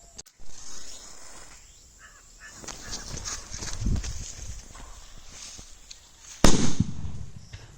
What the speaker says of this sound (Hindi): यह अल्मुनियम फॉयल वाला बम का धमाका मतलब तेज नहीं बज रहा है